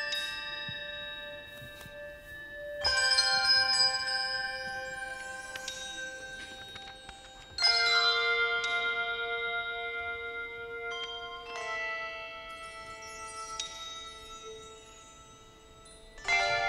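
A handbell ensemble rings out Greensleeves in concert, with clear bright bell chords struck in phrases that sustain and decay between strikes, close and resonant with no voices.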